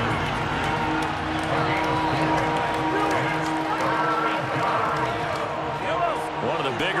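A stadium crowd in Madden NFL 23 roars in a continuous, dense wash of cheering and noise throughout, with no break, at a big third-down moment of a football game.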